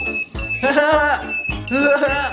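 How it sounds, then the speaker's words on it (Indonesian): An alarm goes off inside a shop, two bursts of a high steady electronic tone with bright harmonic warbling layered over it, loud and close, separated by a short gap. "Ini adalah alarm."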